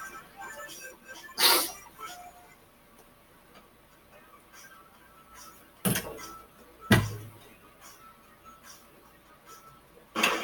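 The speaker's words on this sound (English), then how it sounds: "while I sneeze my brains out" Three sharp, loud sneezes burst out at irregular intervals over a quiet background with faint ticking noise.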